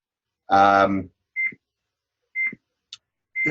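A timer gives several short, sharp beeps spaced about a second apart, following a brief burst of a voice, in a quiet room during a ham radio net broadcast.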